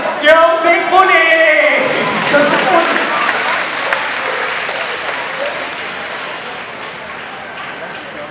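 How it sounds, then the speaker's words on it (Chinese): An outdoor getai stage show audience at Khatib, Singapore breaks into applause. A loud voice calls out briefly at the start, then dense clapping from the crowd carries on steadily and eases off slightly toward the end. "来，掌声欢迎。"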